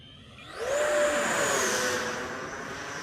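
A 90mm EDF J10 RC model jet makes a rising ducted-fan whine as it swoops past. It builds to a loud, high-pitched peak in about a second, then holds a steady roar that slowly tapers.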